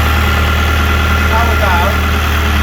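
A Branson tractor's diesel engine runs at a steady idle, a loud, even low rumble with constant vibration throughout, heard up close on its own.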